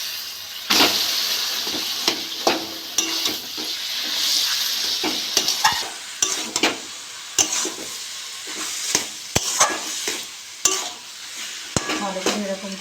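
Taro leaves (kochu shak) with shrimp are stirred in a hot pan. A continuous sizzle runs throughout, broken by frequent sharp clinks and scrapes of a utensil against the pan, close and fairly loud.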